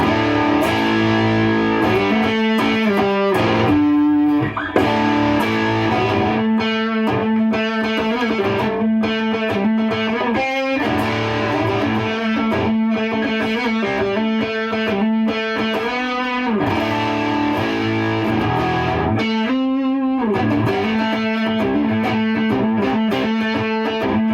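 Electric guitar played through a Klon-style overdrive pedal pushed by a Ryra boost, giving loud, continuous driven chords and riffs with a thick, saturated tone over a long passage.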